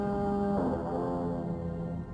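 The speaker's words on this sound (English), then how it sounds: "I'm blowing my foghorn" Lunenburg's foghorn in a cartoon sounds a sustained, low, droning blast with steady tones that shift partway through, heard close and alone.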